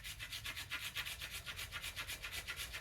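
A small rasp files yew bow wood in quick, even back-and-forth strokes, a close, faint and steadily rhythmic scratching with no voices.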